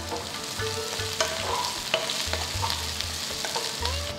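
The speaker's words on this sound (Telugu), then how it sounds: "ఇప్పుడు నేను ఆ బీరకాయని వేయబోతున్నాను." Ridge gourd being stir-fried in a pan, a close, soft continuous sizzle with regular clinks and scrapes of a spoon stirring against the metal, no voices.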